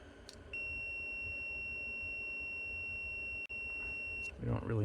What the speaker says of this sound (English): we don't really need the beeper on.